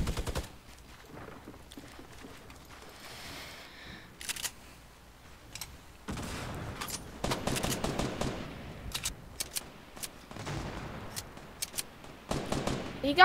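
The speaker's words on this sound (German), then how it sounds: "wir werden jetzt von der anderen Seite beschossen" Gunfire in a first-person shooter video game: quiet, scattered clicky bursts and short rattling volleys that grow busier in the second half, with a player talking at times.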